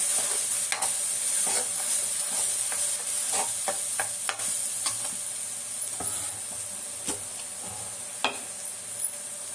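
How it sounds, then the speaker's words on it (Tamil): Onions and cashews sautéing in a pan for egg kuzhambu, a constant close frying hiss with intermittent clicks and scrapes of stirring, no voices. "ஒரு 5 நிமிஷம் இந்த வெங்காயம் இப்போ வதங்கணும்"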